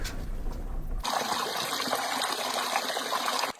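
Water of the Stryi river rushing and splashing while a vehicle crosses it, a loud continuous gushing that starts abruptly after a brief engine rumble and cuts off sharply near the end.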